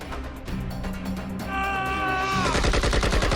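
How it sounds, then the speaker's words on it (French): Bursts of AK-47 assault rifle fire break out during a violent exchange of shots. The reports are sharp and rapid, building toward a dense fusillade near the end, with no speech. "Lors de violents échanges de coups de feu entre 2 catégories de fusils d'assaut"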